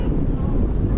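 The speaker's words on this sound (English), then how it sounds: "It's windy up here, really windy." Strong wind buffeting a microphone at a high lookout in Iceland's Golden Circle, a loud low rumbling roar that gusts continuously throughout.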